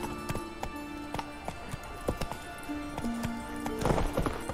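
Hooves of Roach, the horse in The Witcher 3 video game, clip-clop in a quick galloping rhythm at modest volume over soft sustained game music.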